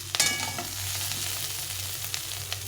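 Boiled potatoes sizzle steadily in hot oil in a pan, with a clatter of utensil contact near the start and scattered pops and stirs nearby.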